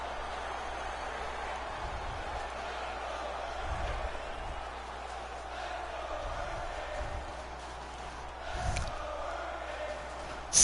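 Steady arena crowd roar from a standing-room-only playoff hockey game in NHL 19, a continuous broad murmur throughout with a few brief low thumps and a slight swell near the end, no voices standing out.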